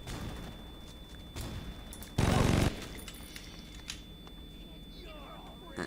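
Gunfire from the video game Saints Row 2 crackles in a short loud burst amid scattered shots, with a person talking over the game sounds.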